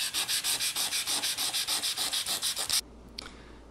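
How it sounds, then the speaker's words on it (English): Close, loud sanding of slick plastic runner surfaces on a woodworking crosscut sled, roughing them up before epoxy goes on: about seventeen fast, even back-and-forth rasping strokes, then it stops and leaves near quiet with a faint knock. "I need to scuff up these two areas here before I apply the epoxy"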